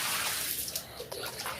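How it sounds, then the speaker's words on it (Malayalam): Water is scooped with a cup out of a small backyard water-lily pond being cleaned, giving a steady wash of splashing and pouring with a couple of sharper sloshes near the end. "അപ്പൊ നമ്മള് വെള്ളം ഇങ്ങനെ കളയാണ്."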